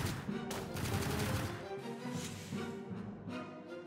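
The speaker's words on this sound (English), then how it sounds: "I'll shoot you in the back for an easy kill" Gunshots from Acaratus, a steampunk mech tactics game, in a dense, rapid run of overlapping shots with a low rumbling undertone, fairly quiet throughout.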